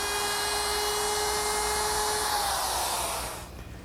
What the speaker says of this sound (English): I'm going to use a 1/2 inch quarter-round bit in my router with a guide bearing, which will ride against the edge.